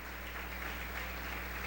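A church congregation clapping for the Lord, a faint, distant, steady wash of applause with no voices over it.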